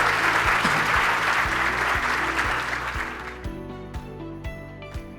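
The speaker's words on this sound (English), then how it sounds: "please put together a warm round of applause for our 3 guests" Applause from a luncheon audience at a Frisco Chamber of Commerce event, honoring three guests; dense clapping fills the room, then thins into scattered claps toward the end.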